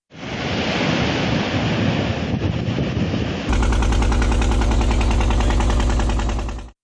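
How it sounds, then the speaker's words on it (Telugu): Strong, gusty cyclone winds at a seashore boat landing: a continuous roar of wind buffeting the microphone, with a deeper, heavier rumble in the second half as the gusts strengthen, and no voices. "కుంభాభిషేకం రేవు వద్ద భారీ ఈదురుగాలులు సంభవించాయి."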